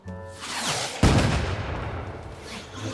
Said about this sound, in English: Since when did we add fireworks to the show?